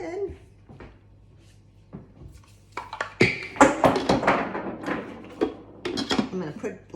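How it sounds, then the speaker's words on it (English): An Instant Pot lid being found and fitted onto the pot of quinoa and water, with clattering metal knocks and scrapes that build into a busy run of handling noises, close by, mixed with some kitchen movement. "I'm gonna put the lid on it"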